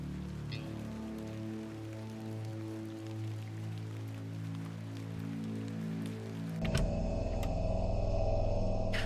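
Steady rain patters in the video game The Excavation of Hob's Barrow, a continuous wash of drops that swells and grows denser near the end, with a low musical drone running underneath.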